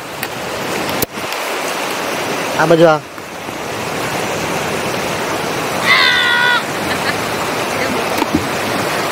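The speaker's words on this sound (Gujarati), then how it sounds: "સરસ પણ પાણી વહેતું છે" A small forest stream flows in the Dang jungle, a constant broad rush of water with a brief voice speaking over it and a few short chirps.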